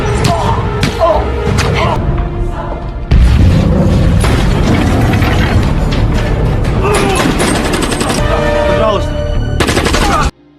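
Grenade explosions and gunfire in an action film scene, with loud continuous booms, thuds and rapid shots mixed with movie sound, cutting off abruptly at the end; voices are heard amid the din.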